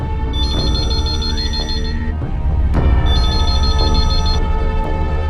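A telephone rings at home: an electronic melodic ringtone with repeating bright tones, fairly loud and close, pausing briefly midway before resuming over a low room rumble.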